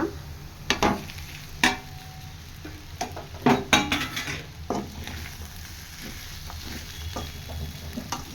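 A spoon mixes rice into mango chitranna gojju in a pan with a soft sizzle. Scraping and clinks of metal against the pan come irregularly, with a few louder knocks.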